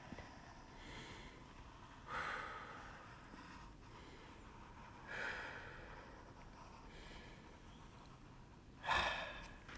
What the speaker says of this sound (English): Deep breath in. Out.